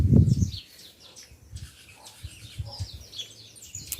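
Small birds chirp and call in a backyard garden, scattered high tweets throughout, with a brief louder low thump at the start and faint rustling beneath.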